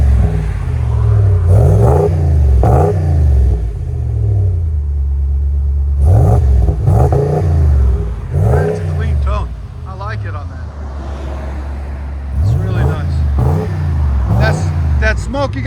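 A 2025 RAM 2500 with its 6.4L HEMI V8 and bottle resonator exhaust revs up repeatedly, each blip rising and falling in a deep rumble between idle stretches, with people talking over it.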